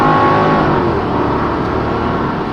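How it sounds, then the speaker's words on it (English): A Mercedes C55 AMG surges under hard kickdown acceleration, engine note loud and close with a steady strong roar and no talk over it. "if I now push it, it shifts 2 times back"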